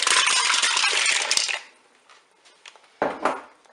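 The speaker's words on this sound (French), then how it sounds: "Et enfin, je vais mettre les moules dans ma cuve." Mussels tipped into the metal pot of a Cookeo cooker make a loud, close clattering rush of shells for about a second and a half, then scattered clicks and a second short clatter as the last shells drop in.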